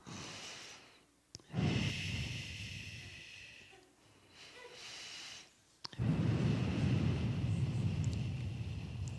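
Deep, slow breaths come close to the microphone in long airy rushes. A few quieter gaps and a sharp click separate them.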